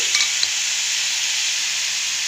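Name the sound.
tomatoes frying in a pan for paneer curry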